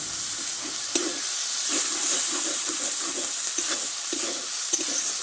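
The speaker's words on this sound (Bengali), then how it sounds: "এই মশলাটা আমি একটু ভালোভাবে কষে নেবো" Tomato, turmeric and spice paste fries and is stirred in a pan, a soft continuous sizzle with scraping stirs at intervals and no talk.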